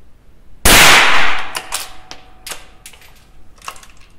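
A Remington 512 Sportmaster .22LR rifle fires one loud, sharp crack that rings out into a decaying echo. Several fainter clicks and knocks from the action follow at uneven intervals, with no talk.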